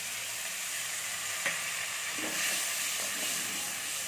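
Ground poppy seed paste is dropped into a pan of fried ginger and hisses steadily as it is stirred, with a few scraping clicks of the spoon over the continuous sizzle.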